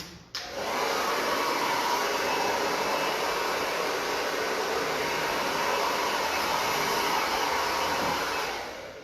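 A hair dryer blows loose cut hair away after a short curly bob haircut, switching on abruptly and running at a steady, loud, close whoosh for about eight seconds before easing off.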